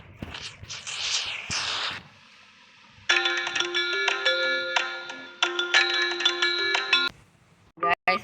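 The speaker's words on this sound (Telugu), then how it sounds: "మన ఫోన్ అయితే వచ్చిందనమాట." An incoming call sets off a mobile phone ringtone, a bright, loud electronic melody of repeating tones that plays for about four seconds after some brief rustling and noise, then cuts off abruptly.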